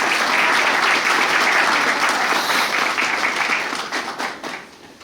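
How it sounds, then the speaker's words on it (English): Loud, close applause from an outdoor audience at the Magazine Beach opening, a thick burst of many hands clapping that carries on strongly, then thins and fades over the last second. "let's give Kathy again and the Magazine Beach partners a round of applause"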